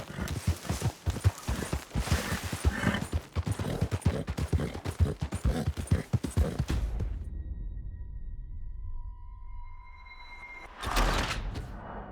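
Horse hooves clip-clop steadily while a rider travels on horseback in a video game, a brisk rhythmic stream of close, loud hoof beats that stops abruptly, followed by faint electronic tones.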